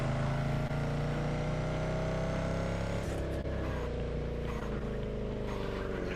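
A continuous electric car engine in a racing video game drones steadily and loudly with layered tonal hum, its pitch shifting slightly partway through as if the gearing changes, with no talk over it.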